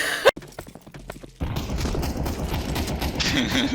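Video game gunfire: a sudden loud burst of rapid automatic shots fills most of the clip after a few scattered sharper bangs, close and harsh with no speech over it.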